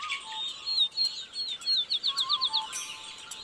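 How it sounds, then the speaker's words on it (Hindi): Birds chirp at dawn around 5 a.m. in a village in Banaskantha district, Gujarat: a string of quick, high tweets and short calls, fairly faint and close together, against a quiet background. "और यहाँ सिर्फ पक्षी ही नहीं चहचहा रहे हैं।"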